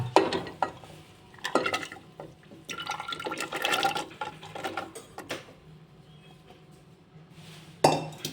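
Dry val beans tipped into a pressure cooker holding about a cup of water, heard as bursts of rattling and clinking with splashy, stirring sounds. The sounds are moderately close, separated by quieter pauses, and no one speaks.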